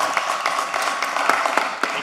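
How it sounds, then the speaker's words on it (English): A room full of people at a city commission meeting breaks into steady applause, with dense, even clapping lasting the whole stretch. "A big round of applause for him too"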